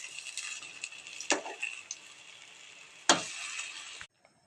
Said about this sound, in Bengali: ওই পকোড়াগুলো উল্টো পাল্টে ভেজে নেবো।